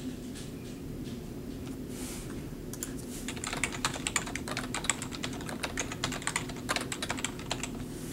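Button clicks on a computer as a random button is pushed for a hockey card team draw, soft and near, starting sparse, then turning into a quick irregular clatter over faint background hum.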